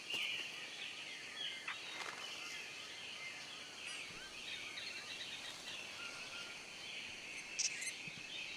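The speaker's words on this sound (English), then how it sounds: "crickets chirping at night" Crickets chirping at night in the Green Hell VR jungle survival game, a steady high trilling chorus that fills the whole stretch with a few faint bird-like calls scattered through it.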